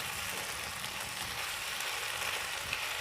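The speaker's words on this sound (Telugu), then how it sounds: "ఇది కొంచెం వేగాలి." Base gravy for dhaba-style rajma fries in a pan with a steady, dense sizzle, close and constant, without pause or speech.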